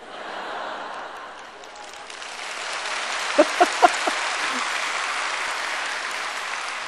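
Audience applause fills a lecture hall during a talk, rising into a steady, sustained clatter of many hands that continues to the end, with a few brief voice bursts over it.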